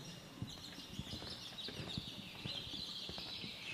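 Birds chirp and twitter continuously in the background at an indoor conference event, with scattered faint knocks and shuffles in the room and no talking.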